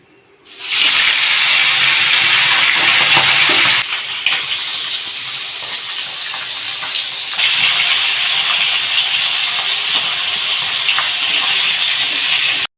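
Steady loud hiss of steam from a pot of boiling taro and potatoes, starting abruptly and continuing without a break, shifting level partway through.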